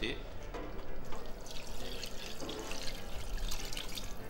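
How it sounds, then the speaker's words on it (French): Broth or water poured over goulash meat in a pot, a steady close splashing pour running throughout with a bright watery hiss. "Je vais recouvrir ça avec du bouillon ou de l'eau."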